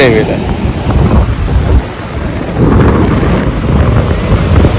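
Loud, roaring surf crashes continuously on Candolim Beach during the monsoon, with a heavy wash of wind and water noise that surges briefly, dips and swells again.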